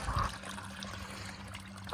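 Water runs from a newly drilled well as a faint, steady trickle and flow. A brief splashy burst comes at the start, then the stream continues quietly over a low hum.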